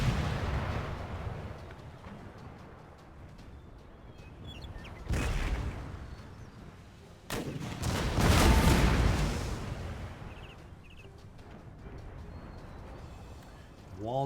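Cannon and artillery fire during a siege battle in Empire Total War, with heavy booming blasts and rumbling impacts over a constant low roar of battle, the loudest volleys bunched in the middle.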